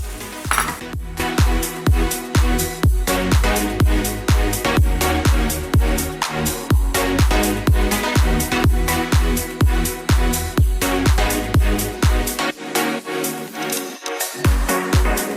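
Vegetables and paneer are stir-fried in a pan, with a dense, steady rhythm of a utensil scraping and clanking against the metal over a constant sizzle, loud and close.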